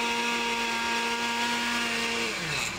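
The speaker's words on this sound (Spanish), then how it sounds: "se están moliendo e integrando en la licuadora" Kitchen blender whirring steadily as it grinds and mixes a smoothie for fatty liver, a loud continuous motor hum with a droning tone that drops in pitch near the end as it winds down.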